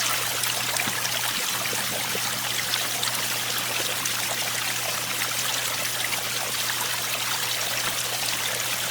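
Fresh water pours steadily from a jug into an aquarium, a continuous splashing trickle that fills the foreground alone for the whole stretch, with a faint low hum underneath.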